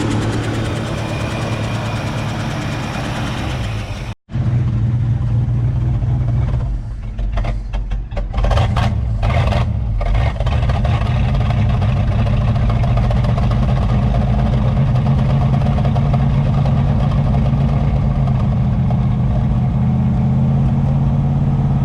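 A 1966 Ford Mustang 2+2 Fastback with a new fuel pump starts after a brief crank and cuts out, then settles into a loud, steady, rough idle that sputters and misses early on before smoothing out, with no talk over it.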